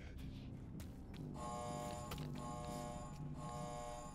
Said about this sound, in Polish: Jakiś alarm się włączył.